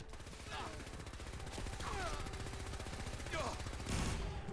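A giant rotary-barrel energy weapon in Fallout 4 fires in a rapid, continuous stream of crackling bursts, loud and close, with a few sharp swooping energy zaps cutting through.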